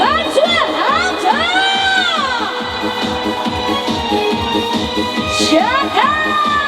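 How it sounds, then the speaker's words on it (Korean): A loud outdoor concert crowd at a show at the Cheongsong Apple Festival cheers and shouts, with rising whoops and high yells over a sustained roar that swells again near the end. "다 같이 즐거우신 분들 박수와 함성!"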